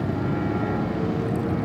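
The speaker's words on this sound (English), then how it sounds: "There's also airplanes flying over me too." A steady low droning airplane engine rumble hangs overhead at a beach, constant and fairly loud throughout with no talking.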